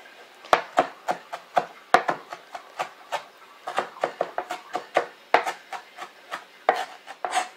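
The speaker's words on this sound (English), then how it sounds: "It doesn't have to be too finely chopped" A knife chops parsley, stems included, on a cutting board in quick, crisp, irregular strokes, close and clear with no talking.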